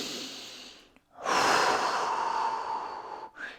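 Deep breathing during a fascial release on the psoas and belly, a long exhale, a short pause, then a loud drawn-out breath followed by a brief sharp intake, close and alone.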